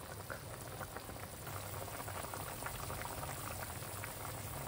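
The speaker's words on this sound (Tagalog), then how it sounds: "kumukulong na siya. Kumukulo na." Water bubbling at a rolling boil in a cooking pot before coconut milk goes in, a steady dense gurgle that continues without pause, close and moderately quiet.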